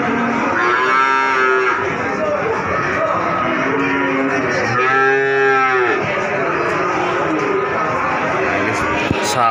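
Cattle moo repeatedly, long drawn-out lowing calls rising above the steady background chatter and bustle of the crowded Wonoasih cattle market in Probolinggo, East Java.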